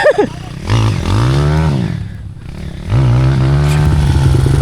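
A motorcycle engine labors uphill on a muddy road, revving unevenly, dipping briefly before roaring back up, loud and close throughout.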